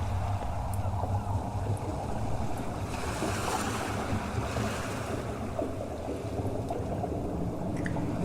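Ocean waves roll and wash in a steady surf with wind over the microphone, a broad continuous swell used as a deep-sea sound effect, with no speech.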